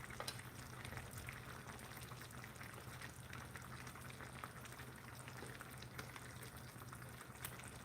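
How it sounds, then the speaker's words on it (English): Water bubbles and sizzles in a pan holding frozen tilapia and vegetables as it reduces, a constant faint crackle and simmer with no talking. "we want to make sure that water reduces down. So that's what these bubbles are."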